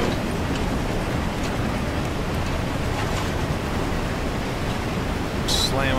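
A steam locomotive runs at speed with a broad, steady rushing rumble close by and a brief hiss near the end, while a voice talks over it.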